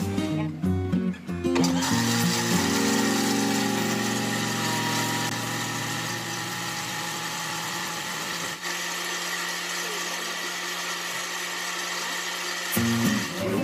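A blender motor whirs steadily and loudly for the whole stretch while making homemade mayonnaise, with a brief shift in pitch near the start and a change at the end.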